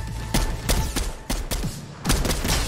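Rapid bursts of gunfire from a gun in Call of Duty-style video game combat, sharp loud shots in quick clusters with brief gaps between volleys, with no talk over them.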